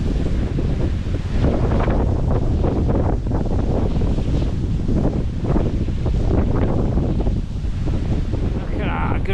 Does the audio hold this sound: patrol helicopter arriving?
no